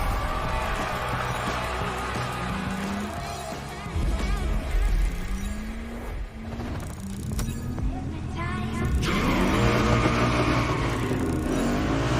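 Cars in The Crew Motorfest rev and accelerate, engine pitch climbing in repeated surges and shifting up before a louder, sustained roar builds toward the end.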